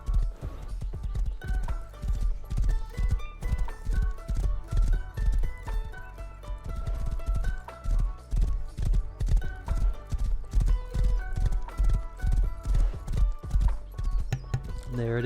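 Horse hooves clopping in the game Rust, a fast, rhythmic drumming of strikes that carries on throughout over a looping music bed, with someone talking over it.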